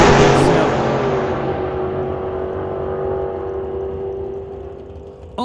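A naturally aspirated drag race car makes a run at a sunset showdown race, a loud broadband engine roar that fades steadily as it pulls away, with a sustained tonal whine underneath.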